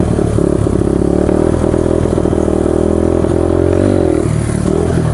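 A Honda XR200R dirt bike revs hard and steadily close by, its engine note rising and holding as a wheelie is attempted, with some clattering mechanical noise and no talking.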